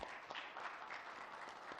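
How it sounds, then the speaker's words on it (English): An audience at a business seminar gives steady applause, dense and continuous but fairly faint and distant, with no speech over it. "Let's give it a round of applause."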